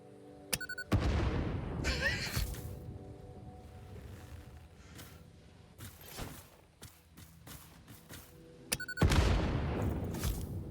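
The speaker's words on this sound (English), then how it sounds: "They're running toward the sound of the explosion." Explosions in the factory-building video game Satisfactory. Loud booming bursts land near the start and again near the end, each with a long rumbling tail, and a scatter of sharper cracks fills the stretch between them.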